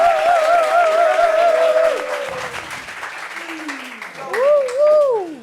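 Studio audience ovation for a guest on a French-language talk show set, clapping and crowd noise that tapers off, with music and voices rising over it toward the end.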